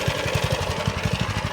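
A Baja minibike's small engine idles after a carburetor cleaning, close and loud, with a rapid even putter of firing pulses.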